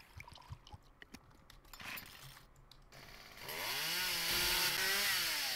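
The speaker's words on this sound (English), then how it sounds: "Ooh, chainsaw." In the video game 7 Days to Die, a few scattered knocks and clatters give way to a chainsaw revving up and cutting through wood. The engine whine rises and holds loud and close until the end.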